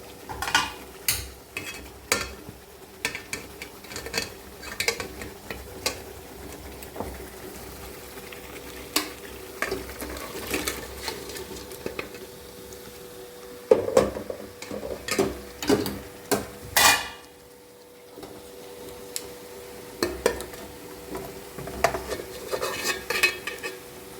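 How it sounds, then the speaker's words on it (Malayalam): Crab pieces tipped into a frying pan and stirred with a utensil while making a Kerala-style crab roast, giving repeated clinks, scrapes and clatters of metal against the pan, loud and close, with no talking. "ഇനി ബാക്കി ഞണ്ടും കൂടി ഇതിനകത്ത് കിടന്ന് ഒന്ന് ഈ ഞണ്ട് നമുക്ക് ഇതിലേക്ക് തട്ടിക്കൊടുക്കാം"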